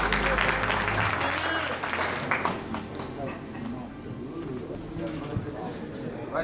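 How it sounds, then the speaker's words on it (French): An audience at a fight event gives a thunderous round of applause for a fighter being introduced. The steady clapping fills the room, with voices mixed in. "Je vous demande de faire un tonnerre d'applaudissements pour Monsieur Ruard Kevin."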